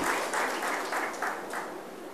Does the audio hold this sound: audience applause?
yes